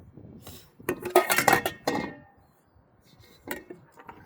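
Metal camping-stove cookware, a frying pan and burner parts, clinks and clatters in a quick cluster of close, bright knocks, then a pause and a few lighter taps as pieces are handled.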